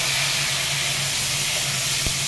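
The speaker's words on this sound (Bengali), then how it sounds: "তেলের মধ্যে কালো জিরে ফোড়ন" Black cumin seeds hit hot oil in a home kitchen pan, giving a continuous bright hissing sizzle over a faint low hum, with no speech.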